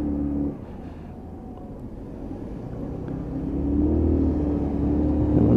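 A Lexmoto Chieftain 125cc motorcycle rides through a roundabout, a steady low engine rumble mixed with road and wind noise that swells louder toward the end, with no talk.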